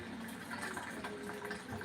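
Warm water runs steadily from a tap while a senior cat is readied for a bath at a grooming table, a soft continuous gushing with no voices.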